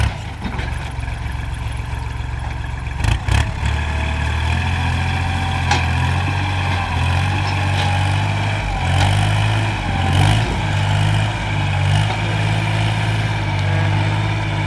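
A Kubota L4018 tractor fitted with a front blade and a harrow works steadily, its diesel engine droning loud and close, with brief clunks and a slight rise in pitch partway through.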